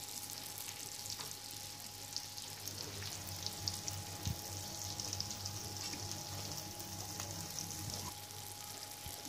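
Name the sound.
pav bread buns frying in butter in a pan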